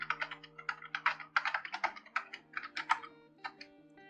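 Login credentials being typed on a computer keyboard: a steady run of close, crisp keystrokes with uneven rhythm and occasional heavier presses, alone without voices.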